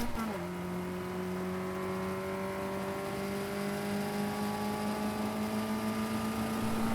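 A race car at Donington Park in 2021 powering through a corner, its engine note climbing steadily as it accelerates out of a slide, continuous and fairly close, with a commentator talking over it.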